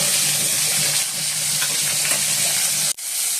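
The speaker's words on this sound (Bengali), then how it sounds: "কলাগুলো ভেজে নিচ্ছি" Plantain pieces fry in hot oil in a karai, a continuous moderate sizzle and hiss with faint stirring, broken by a brief cut near the end.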